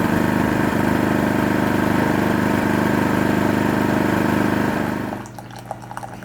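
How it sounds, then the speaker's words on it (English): A portable generator runs during a storm power outage, its engine humming loud and steady at close range before cutting off near the end, leaving quiet with faint clicks and drips. "my dad hooked up the generator"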